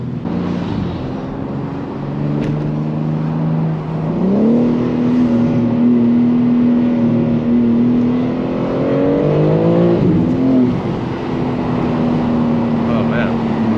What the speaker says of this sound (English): Those intakes sound wicked.